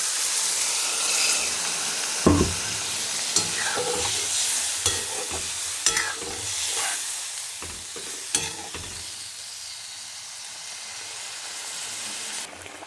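Pieces of fish sizzle and fry in a pan for a Bengali fish curry, with added water, loud and close. The steady frying hiss is broken by sharp clatters and spatters, and no one speaks.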